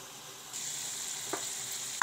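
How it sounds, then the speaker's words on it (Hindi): Cauliflower kheer cooking in a pot, a steady soft sizzling bubble that grows slightly louder after a moment, with a faint clink near the middle and a sharper knock at the very end. "अब ये देखें हमारी गोभी की खीर पक रही है"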